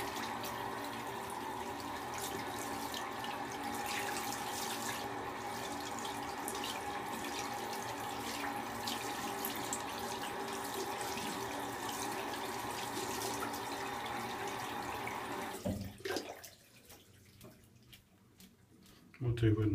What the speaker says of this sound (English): give it a good rinse out, give it a bit of a flick, knock most of the water out